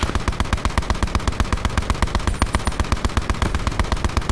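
Rapid automatic fire comes steadily from an enemy position on a hill in Blackout. The shots are loud and evenly spaced, with no talk over them.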